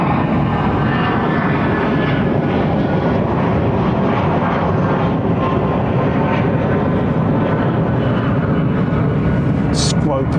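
A Boeing 787 Dreamliner jet departing Heathrow roars steadily and loudly throughout, a broad continuous engine rumble close by, with a brief sharper click near the end.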